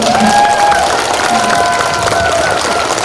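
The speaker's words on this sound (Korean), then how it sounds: "큰 박수 다시 한번 부탁합니다" An audience at a community residents' assembly and multicultural event clapping loudly with some cheering, a crowded, continuous sound with voices mixed in.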